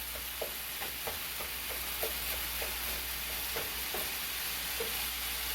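Meat frying in a pan, a steady bright sizzle with faint, regular light stirring taps beneath it, moderately quiet and continuous.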